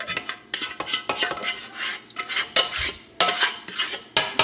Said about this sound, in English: mix the beans like this